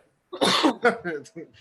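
A single sharp sneeze close by, a sudden noisy burst followed by a short breathy trailing sound.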